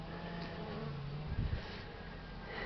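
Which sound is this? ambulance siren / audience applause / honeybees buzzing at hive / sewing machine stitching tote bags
honeybees buzzing at hive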